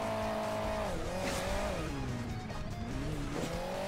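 Motorcycle engine in the mobile racing game Hill Climb Racing 2, a continuous buzzing rev that rises and dips in pitch as the bike accelerates and eases off, steady and close with no talk.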